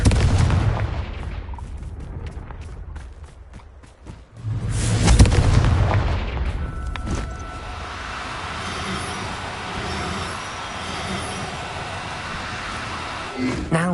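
Confringo blasting spell from Hogwarts Legacy: a deep, booming explosion bursts out after a stretch of clattery game noise, then fades into rumbling ambience with voices nearby.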